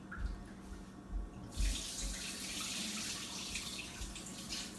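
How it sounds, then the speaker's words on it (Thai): Water poured off rice that soaked a full day and night for khanom khrok, a steady splashing stream starting after a few soft knocks and running on alone without talk. "เราก็จะเอาน้ำออกเหลือแต่ข้าวสารแบบนี้"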